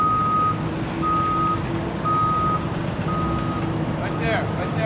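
Truck backup alarm beeping in a steady, evenly spaced series at a construction site for a drain sub-basin water recycling facility in Los Angeles, loud over the rumbling engine, with a brief faint voice near the end.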